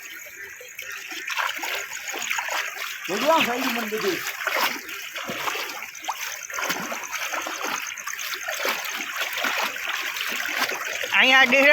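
Rainwater from very heavy rain late at night flows and splashes continuously nearby, with people talking over the steady rush of water.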